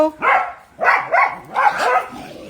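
A dog barks in three close, loud bursts of yips and whimpering barks, each lasting a fraction of a second, with short pauses between them and no other sound around.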